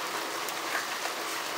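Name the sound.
rain falling, getting heavier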